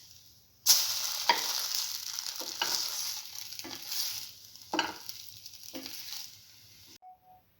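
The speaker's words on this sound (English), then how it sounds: "Do this until all the bread pieces are nicely fried." Bread pieces for chili tomato French toast fry in a pan, a steady close sizzle broken by several sharp crackling bursts as pieces are moved or turned, ending abruptly.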